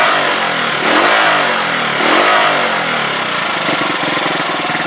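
A Huoniao HN125 motorcycle engine idles roughly, then revs twice in lazy swells that rise and sag slowly back down, a loud mid-pitched buzzing drone heard alone.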